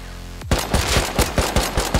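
Rapid bursts of gunfire in the survival video game Rust, about seven sharp, loud shots in a steady rhythm, close and alone with no talk over them.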